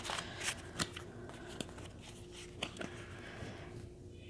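Tarot cards shuffled by hand, a close riffling and sliding rustle with a few sharper snaps and taps between softer shuffling passes.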